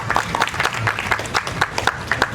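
An audience at a reception for AMMA president Shwetha Menon in her hometown bursts into brisk, fairly close applause, many hands clapping in a dense irregular patter.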